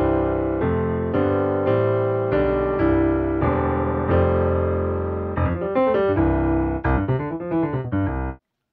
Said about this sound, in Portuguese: esse aqui é o som do piano